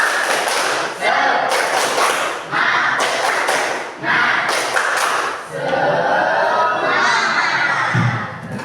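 Schoolchildren in a classroom clap a rhythmic spirit clap in loud, patterned bursts with brief pauses, then shout and cheer together as a group toward the end.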